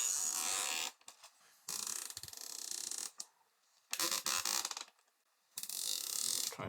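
Cable ties zipped tight around fans on an RTX 3060 Ti graphics card during a deshroud mod, heard as several bursts of rapid ratcheting clicks separated by short pauses, close and fairly loud.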